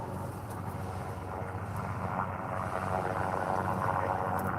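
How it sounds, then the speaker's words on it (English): A steady, continuous engine drone runs close by on a windy beach, mixed with wind rumble and no talking. "Love the sound of that engine."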